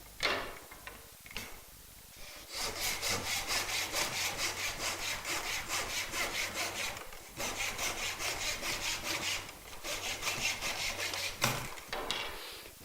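A hand-operated mitre saw cuts through wood at a 22.5-degree half-mitre, making rhythmic rasping back-and-forth strokes in two long bursts with a short pause between them, close and steady, with no talking.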